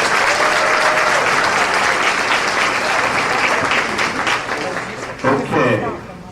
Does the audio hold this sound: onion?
no